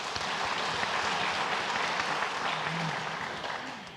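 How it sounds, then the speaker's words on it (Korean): Church congregation applauding during a Sunday worship service after the 2024 youth retreat, a steady wash of many hands clapping at moderate loudness that holds throughout and fades slightly at the end. "위해서 박수로 격려하시겠습니다."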